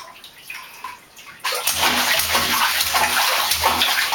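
A small child splashes bathwater in a tub, starting quiet and then breaking into steady, close sloshing and splashing that runs continuously to the end.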